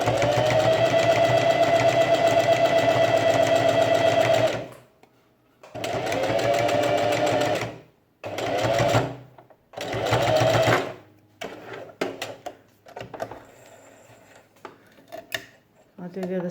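A sewing machine stitches a fabric face mask in loud runs of rapid needle clatter, stopping and restarting several times with short backtracking bursts, then giving way to fabric handling and light clicks.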